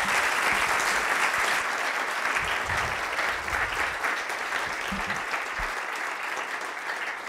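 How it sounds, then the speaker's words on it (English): After a talk on hope for people and the ocean, an audience gives a long round of applause. The dense clapping continues for several seconds and slowly fades toward the end, with a few voices faintly underneath. "let's give a round of applause to Jane."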